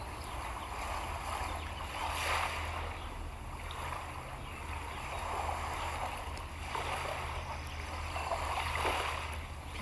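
Waves roll onto a beach in slow, soft swells, a steady wash of surf rising and falling every couple of seconds with no voices over it.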